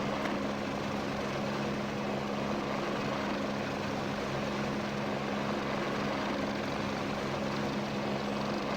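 Helicopter in a flight simulator game on an Austrian tour, a steady droning rotor and engine roar holding evenly throughout with a constant low hum and no voices.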